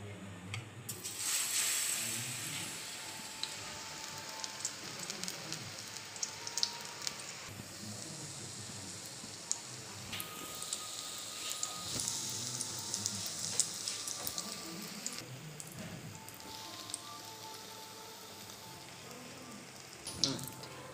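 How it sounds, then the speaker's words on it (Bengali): Double-layer paneer pakoras fry in white oil with a steady, close hiss and crackle that swells and fades over about twenty seconds, broken by a few small pops, with no voices. "এটাকে আমরা এবার সাদা তেলে ভেজে নেব।"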